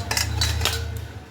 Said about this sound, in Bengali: এইভাবে আমি সবগুলো কুড়ে নেব, যাতে একটু লাম্পস না থাকে।